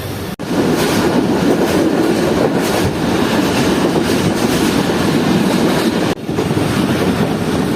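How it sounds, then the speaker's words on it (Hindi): A Pakistan Railways container train rolls past close by, a loud continuous rumble with steady clickety-clack of wagon wheels over the rails, unbroken for nearly eight seconds with no talk. "Container train."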